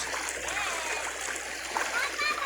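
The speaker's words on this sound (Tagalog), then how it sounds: "Ang lakas ng agos dito" A strong river current rushes and splashes close by, a continuous churning wash of water with voices faintly mixed in.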